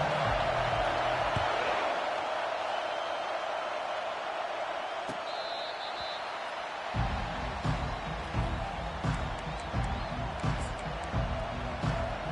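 Stadium crowd at a Washington football game, a broad steady roar that swells louder partway through, with booming thuds and scattered shouts under a commentator's voice.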